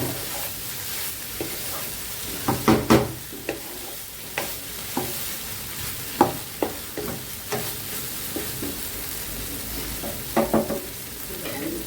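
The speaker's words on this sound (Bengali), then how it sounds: "একটু জলটা ছেড়ে দিয়ে কষিয়ে নেব" Soybean, paneer and mushroom curry sautéing in a pan with a splash of water, a continuous close sizzle punctuated by repeated spatula scrapes and clanks against the pan at uneven intervals.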